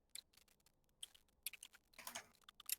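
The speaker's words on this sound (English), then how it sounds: "Can you hear me typing, like, on the stream?" Quiet typing on a computer keyboard during a live stream, a soft irregular patter of key clicks with a brief faster flurry near the end and no speech.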